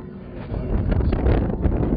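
Cold late-season subarctic wind gusts steadily outdoors, a loud continuous rushing roar buffeting the microphone for the whole stretch with no voices.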